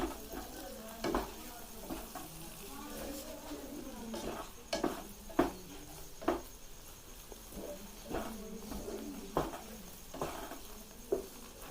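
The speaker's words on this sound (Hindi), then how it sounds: "हमारी सूजी तैयार हो रही है। 1 से 2 मिनट की इसको स्लो आग पर पकाएंगे" Suji halva stirred in a pan over low heat gives scattered scraping clinks of a spoon against metal, irregular and moderately close, over a soft background hiss, with no talking.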